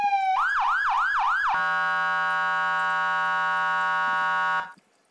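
A loud electronic emergency vehicle siren from the video game Emergency 4 wails in rapid rising-falling sweeps, then holds a steady blaring tone for a few seconds before cutting off abruptly.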